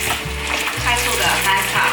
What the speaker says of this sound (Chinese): 快速的翻炒